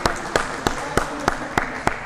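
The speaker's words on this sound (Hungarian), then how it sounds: "Szendrő Zsoltnak jár a taps" Scattered claps at a men's handball match ring out as a slow, regular series of about seven sharp, evenly spaced hand claps over steady arena background.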